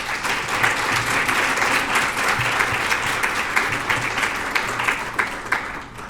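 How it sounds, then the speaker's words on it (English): A seated audience at a women leaders' awards program gives a sustained round of applause for the award recipients, a dense steady wash of many hands clapping that tapers slightly toward the end. "Let's give all of our OWL recipients another round of applause."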